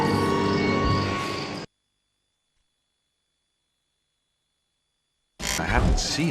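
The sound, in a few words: toads croaking in Lemony Snicket video game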